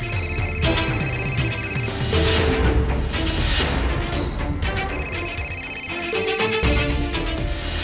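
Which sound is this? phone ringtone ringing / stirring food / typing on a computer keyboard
phone ringtone ringing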